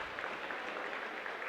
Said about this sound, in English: she gets a round of applause from those here in attendance at the Ned Schott Gymnasium